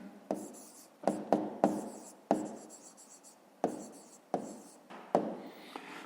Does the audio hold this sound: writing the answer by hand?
yes